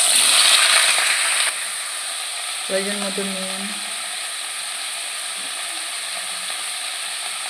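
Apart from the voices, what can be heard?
vegetables frying in hot oil in a wok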